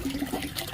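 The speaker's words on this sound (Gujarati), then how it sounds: "જો અહીં નળે છે, ચાલુ કરજો એટલે પાણી આવ્યા જ કરે." A tap at a Gir cow farm runs water in a steady, close gushing stream for a brief moment, with no talk over it.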